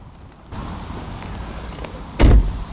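A Mitsubishi Eclipse Spyder car door thuds shut with a solid low slam after a stretch of quiet rustling and faint movement nearby.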